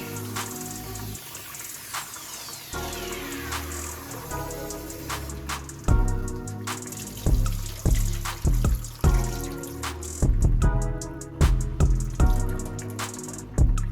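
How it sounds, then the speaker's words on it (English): A kitchen tap runs as shrimp are rinsed in lime water, giving close, uneven splashing and sloshing with pauses and repeated bursts of stream and drips, without any talking. "So just rinse it until the water becomes clear."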